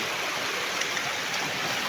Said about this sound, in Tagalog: So fresh water nanggagaling sa cave